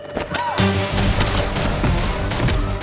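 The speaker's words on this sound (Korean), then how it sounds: "순식간에 7발을 다 쏘고 바로 적의 총을 뺏어듭니다" A rapid burst of seven gunshots from a film cracks out in quick succession, loud and close, layered over orchestral music arranged from Vivaldi's Summer.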